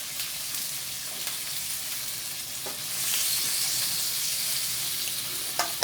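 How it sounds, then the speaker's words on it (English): Pieces of pork frying in a pan for a Vietnamese-Thai pork stew, a steady close sizzle with faint stirring clinks that swells slightly louder partway through, with no talking. "let's leave that in there to fry up"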